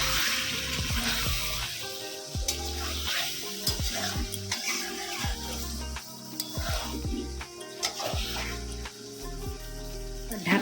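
Chicken biryani being stirred in a pot, with repeated scraping and stirring strokes over a steady sizzle, close and fairly loud, with no voices.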